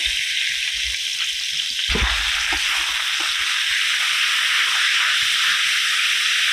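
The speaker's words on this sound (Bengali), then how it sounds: "এবার দেখো যে সসটা আমি রেডি করেছিলাম তার অর্ধেকটা দিয়ে দেবো" Sauce poured onto vegetables frying in a pan for egg chow mein, a loud steady sizzle and hiss that surges with a deeper splash as the liquid hits the hot pan, then keeps frying.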